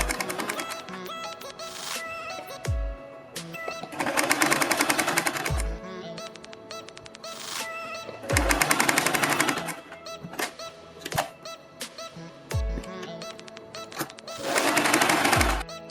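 An electric sewing machine stitches fabric for a beaded neck design, its motor running in several loud bursts of a few seconds each, separated by quieter pauses with handling sounds, with no talking.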